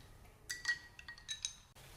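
One or two ice cubes drop into a serving glass of strained mint lime juice, giving a few bright, close clinks over roughly a second, then quiet.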